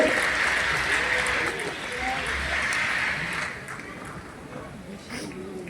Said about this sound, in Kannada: ದಯವಿಟ್ಟು ಜೋರಾದ ಚಪ್ಪಾಳೆ ಮತ್ತೊಮ್ಮೆ ನಮ್ಮೆಲ್ಲರ ಪ್ರೀತಿಯ ಅನುದಾನ ಅವರಿಗೆ.